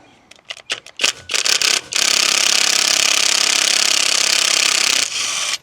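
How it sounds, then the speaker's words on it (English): A ratchet works loose hardware while a trailer wheel is removed, starting with quick clicking ratchet strokes and then shifting into a sustained loud whirring grind close by. "So I got my ratchet on one side."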